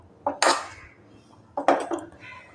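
Rice is served onto plates at home, and two clusters of clinking come close by, dish rims and a serving utensil knocking and ringing against each other with a quiet pause in between.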